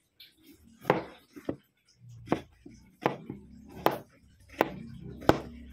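A knife cuts through opo (bottle gourd), giving about seven distinct sharp chops against a board at an uneven pace, close and crisp with quiet gaps between strikes.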